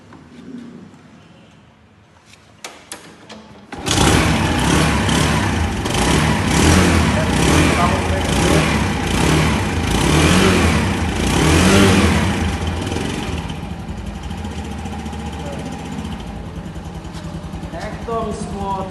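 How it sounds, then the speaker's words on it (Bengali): A Runner Sky 110cc scooter engine starts abruptly after a few seconds of quiet handling noise, then idles and revs loudly and close by for a sustained run before settling to a lower, steady idle. "একদম স্মুথ সাউন্ড বাইকের"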